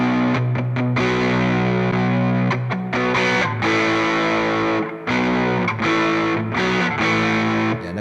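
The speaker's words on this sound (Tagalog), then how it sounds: "Yan, nagpantay-pantay na yung yung tunog dahil dun sa nilagay natin na compressor." Distorted electric guitar running through a compressor effect on a Boss GP50 multi-effects unit, with sustained chords and short breaks, evenly loud and played alone without talk.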